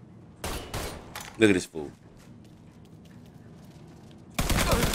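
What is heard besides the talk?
gunfire in Mafia 3 video game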